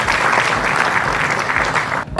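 Loud, steady applause from a seated audience welcoming a guest at a book launch event, thick continuous clapping that cuts off abruptly near the end, no talk heard.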